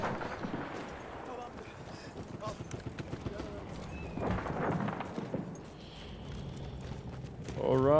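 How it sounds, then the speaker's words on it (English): Hooves clip-clop in a rapid gallop amid Battlefield 1 battle noise, with distant booms and a horse's whinny; voices talk over it. "Fucking horse."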